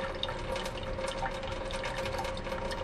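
Water runs steadily from a kitchen faucet into the sink, a continuous hissing, splashing flow with no talk over it.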